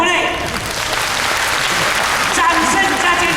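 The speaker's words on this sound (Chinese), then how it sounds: "给上帝掌声鼓励" A church congregation at a Sunday worship service claps in steady, dense applause that holds at full volume throughout.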